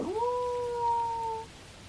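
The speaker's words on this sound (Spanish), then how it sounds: "El viento del desierto trae de vez en cuando los aullidos de los chacales." A lone jackal howl drifts in on a stormy desert wind at night, a single sustained cry that rises briefly and then holds a steady, even pitch for over a second before cutting off, fairly faint and distant.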